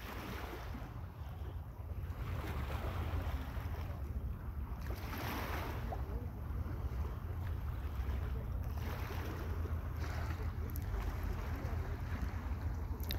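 Wind and surf at White Rock Beach on a damp December evening, a continuous low roar of gusting wind buffeting the microphone over waves breaking and washing in.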